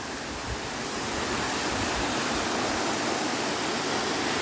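A loud waterfall at Ross Creek Reservoir gives a steady, dense roar of rushing water that holds unchanged and close throughout, with no voices.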